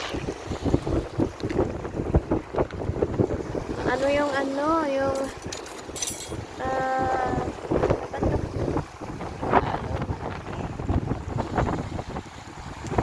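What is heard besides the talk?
wind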